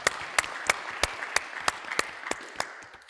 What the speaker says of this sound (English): let's give a round of applause for everybody in this room